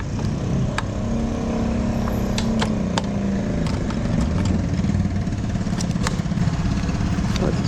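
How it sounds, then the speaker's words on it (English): A scooter engine runs steadily near a fuel pump, giving a continuous mid-pitched motor drone that holds at a fairly loud, even level throughout. "Oh, it's a scooter."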